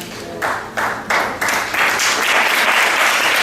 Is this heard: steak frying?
no